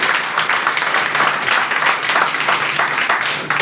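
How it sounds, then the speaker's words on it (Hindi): A seated audience at a motivational talk breaks into steady, dense applause that continues at an even level throughout, with no voices over it. "तो बहुत सारी तालियां जरा एक दफा"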